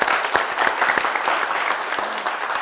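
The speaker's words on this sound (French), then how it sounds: "Les gars, on va applaudir pour Asmao." A studio audience applauds for Asmao on a French TV variety show, giving dense, steady clapping for a few seconds with no speech over it.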